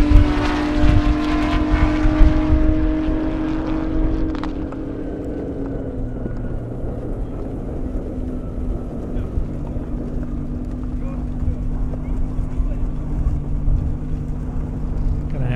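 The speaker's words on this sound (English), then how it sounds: "we got a Camaro going around the outside of the Aston Martin" A Camaro ZL1 and an Aston Martin race on an airstrip, opening with a loud close engine howl and rising tones that give way to a steadier, more distant drone, while an announcer talks throughout.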